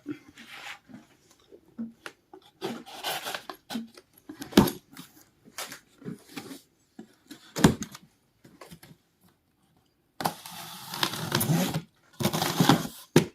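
A blade slices open the cardboard box of a home-cinema subwoofer in short, scraping and tearing bursts, quiet and intermittent at first, then longer, louder ripping strokes near the end.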